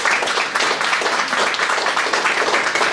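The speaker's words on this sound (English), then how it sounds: "So how about another round of applause?" A lecture audience at UCF breaks into a dense, steady round of applause, many hands clapping together at close range and sustained without a break, with no talk over it.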